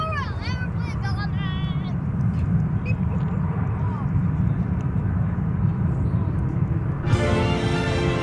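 An airplane roars steadily at Dallas Fort Worth International Airport, a loud sustained engine rumble heard from the plane-spotting area at Founders Plaza, with someone talking over it and tonal sounds entering near the end.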